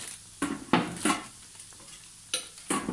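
Beignets fry gently in hot oil with a soft, continuous sizzle. Scattered utensil clinks and stirring scrapes sit up close over the low bubbling.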